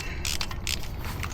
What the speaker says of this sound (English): let's get these spark plugs out of here